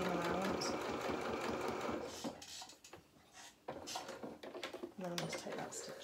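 Domestic sewing machine running a short seam on a small doll shirt, a steady whirring hum that stops partway and resumes, with a voice talking over it.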